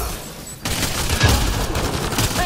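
Bursts of gunfire in the Mass Effect Andromeda video game, a sudden loud onset of rapid overlapping shots that continues densely to the end.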